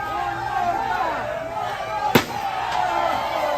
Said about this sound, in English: As Briggs now with a trash can lid